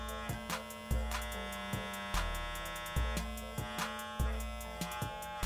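An electric hair clipper runs steadily with pressure pressed onto its blades, giving a close, constant buzzing hum broken by regular thumping bumps roughly every second.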